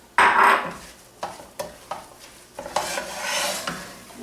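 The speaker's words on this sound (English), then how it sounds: "So when it's almost done, I start to add the veggies." Vegetables go into a hot frying pan for breakfast burritos with a loud burst of sizzling, followed by repeated scraping stirs of a utensil against the pan over a continuing fry, no one speaking.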